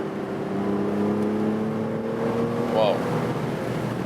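An Aston Martin V12 Vantage S Roadster with 580 hp cruising at about 120 km/h, its engine and road roar a steady loud drone throughout, with a brief exclamation from an occupant.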